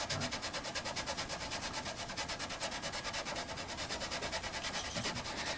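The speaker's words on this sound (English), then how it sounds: "I was thinking about the light grit of sandpaper. Plus, it's not new sandpaper." Old, light-grit sandpaper rubbed back and forth in quick, regular strokes, a close, quiet rhythmic scratching that continues steadily without pause and with no talk.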